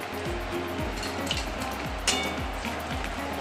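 Paneer pakora fritters sizzle and crackle steadily in hot oil, a close, continuous frying hiss with small pops and no voices.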